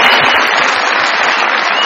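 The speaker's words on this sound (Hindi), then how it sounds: "सास के लिए तालियां।" A burst of loud television studio audience applause on a comedy talk show, dense clapping sustained throughout.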